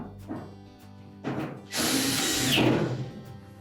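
A power driver whirs briefly to drive a screw back in, securing the drain hose on a Maytag washer; a short buzzing spin follows quieter handling clicks, close and loud without speech.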